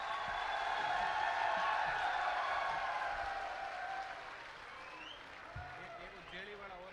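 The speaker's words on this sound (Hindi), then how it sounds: "आप भी अपनी तरफ से एक बार जोरदार तालियां बजा करके" A crowd at a Rashtriya Loktantrik Party rally in Salasar breaks into loud, dense applause with a few whoops. The clapping swells for several seconds, then fades toward quieter murmuring.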